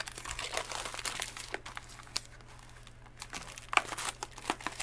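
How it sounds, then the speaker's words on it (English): Plastic shrink wrap being peeled and torn off a Pokémon Vivid Voltage booster box, a close, steady run of crinkling and crackling with sharper tearing bursts. "Oh my gosh, this wrap is so hard to get off"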